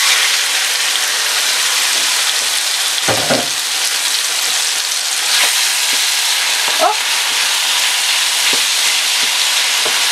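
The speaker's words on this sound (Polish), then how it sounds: "Już wrzucamy nasze mięsko na rozgrzany olej." Chicken meat frying in hot oil reused from cooking minced-meat cutlets, a loud continuous sizzle with occasional pops and a few faint clinks, with almost no talk.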